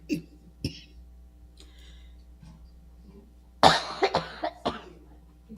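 A person coughs, with a couple of small coughs early on, then a burst of several harsher coughs in quick succession near the end.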